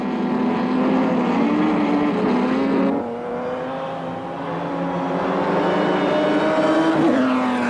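Vintage ERA racing cars at speed at Donington Park in 1938, loud engine drone with rising and falling pitch, a sharp change as one car passes, then engines building again, no voices.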